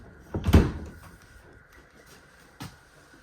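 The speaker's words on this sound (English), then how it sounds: "Half bath right through this door." A single RV bathroom door swings open with a short thud and rattle, followed by a quieter knock a couple of seconds later in a still room.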